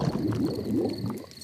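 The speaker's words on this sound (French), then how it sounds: "Les gargouillements de mon estomac sont les plus beaux bruits de la nature." Cartoon pig's stomach rumbling and gurgling in low, bubbly, wobbling waves, moderately loud and close, continuing without pause.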